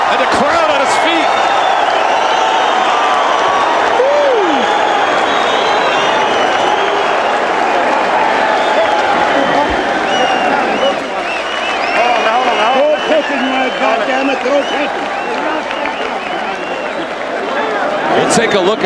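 Boxing arena crowd roars and applauds continuously as a round ends, a loud dense wall of cheering with a ringside commentator talking over it throughout.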